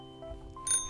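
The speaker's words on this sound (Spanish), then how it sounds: "Me encantan los timbres. Hacen ding ding." A bicycle bell rings once, brief and fairly faint, a bright metallic ding rising over a quiet background in a children's show setting.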